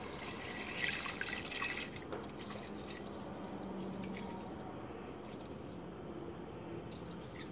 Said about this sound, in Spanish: ahorita le voy a agregar la leche a la olla